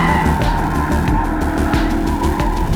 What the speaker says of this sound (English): you end up with these huge, massive four-wheel drive drifts coming off the corners